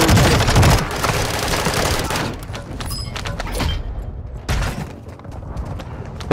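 Dense video game gunfire fills the first couple of seconds as a loud continuous fusillade, then continues in scattered bursts and single shots, with heavy booms at about 2.3 and 4.5 seconds.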